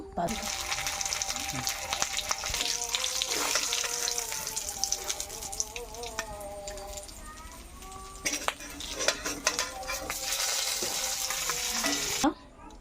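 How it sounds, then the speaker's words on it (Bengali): Dried fish fries in a kadai with a continuous, close crackling sizzle and occasional utensil knocks, while a voice talks over it throughout. "একই কড়াইতে আমি মাছটাও ভাজি করে নিয়েছি"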